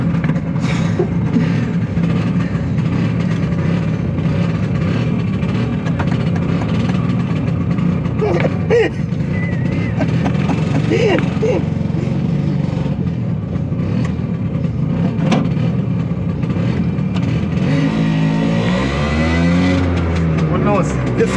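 Small Italian vehicle, likely a Piaggio Ape three-wheeler, with its engine running steadily and then pulling away; a loud continuous motor drone throughout, rising in pitch near the end as it drives off, with people talking over it.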